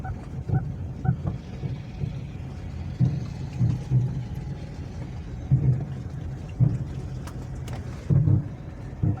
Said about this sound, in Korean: 그 눈길에 ABS 작동하듯이 그런 소리니까